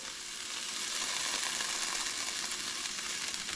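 Garlic sizzles in heated oil with a dense, even, close frying hiss that stays strong and unbroken throughout, with no voices.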